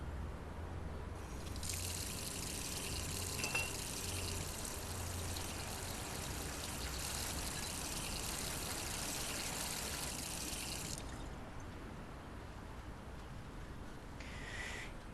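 Drinking water being poured into a glass indoors, a steady continuous trickle running for most of the clip, moderately close and alone without talk.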